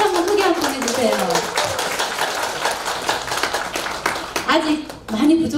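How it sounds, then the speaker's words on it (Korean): An audience at a singer's fan club New Year event in a wedding hall claps and applauds, with a voice speaking over the clapping throughout. "우리 대표님께 박수 한번 크게 한번 해주세요."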